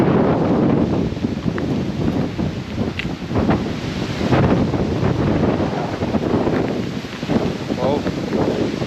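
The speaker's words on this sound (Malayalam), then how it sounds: "കാറ്റടിച്ചിട്ട് ആള് വീഴുന്ന കാറ്റാ." Strong wind sweeps across the open hilltop of Sarang Hill, a loud, continuous roar and buffeting that fills the whole stretch, with voices partly buried beneath it.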